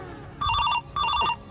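A telephone rings in two electronic bursts of trilling tones, each lasting about half a second with a short pause between, loud and close over a low background.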